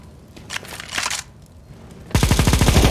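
Counter-Strike: Global Offensive gunfire, scattered distant shots followed by a loud, close, rapid automatic burst with an even, steady rhythm.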